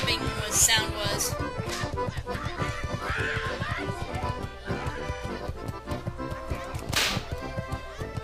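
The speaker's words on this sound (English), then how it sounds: "So that's what that slapping sound was." Rapid whip slaps and clip-clopping hooves of a horse ridden in World of Warcraft, repeated sharp cracks over a driving game soundtrack, with a horse whinny rising near the end.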